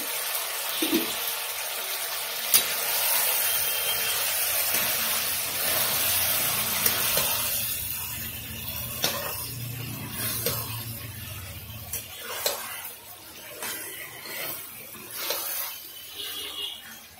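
Mutton curry cooks in a pot while the lid is lifted and the meat stirred, giving a steady broadband sizzle and hiss that thins partway through into scattered scraping and clinking stirring sounds, with no talk.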